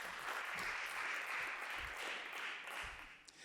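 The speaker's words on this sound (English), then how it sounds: "give yourself a round of applause" A crowd applauds at a project demo and awards ceremony, a steady, fairly faint wash of clapping from a mid-sized audience that continues evenly, with a few low thumps beneath.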